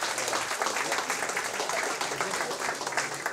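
An audience at a campus dictation contest award ceremony applauds a winning team, a steady, fairly distant patter of many hands clapping continuously.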